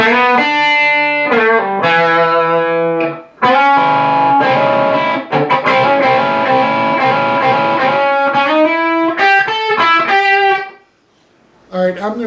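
A distorted electric guitar plays a blues-rock lick, a busy run of quick picked notes and slides with brief gaps, loud and close.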